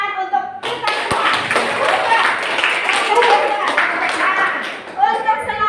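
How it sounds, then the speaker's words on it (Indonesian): Classroom clapping led by a teacher after group presentations, a burst of many pupils' hands clapping together for several seconds, fairly loud and close, with a voice speaking before and after it. "Ini sekali lagi tepuk tangan untuk kita semua."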